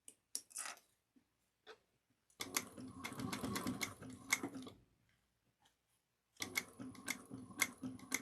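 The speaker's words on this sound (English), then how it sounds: "And stop at that 3/8 of an inch and back stitch." A sewing machine back stitching a seam on a cross-body bag, stitching in two close bursts of rapid mechanical chatter separated by pauses and small handling clicks.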